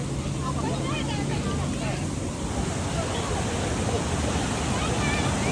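Heavy water flow rushing over the Korutla mini tank bund, a loud, steady broadband roar with wind buffeting the microphone, continuous for the whole stretch.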